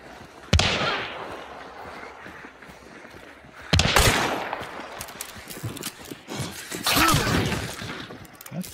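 Gunfire at a barrel in a video game: three sharp, loud shots spaced a few seconds apart, each followed by a crackling, shattering burst that tails off, with quieter rustling background between.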